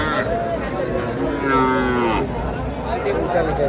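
Cattle low with long, drawn-out moos at a busy village livestock market, close and loud over a constant murmur of crowd noise and chatter.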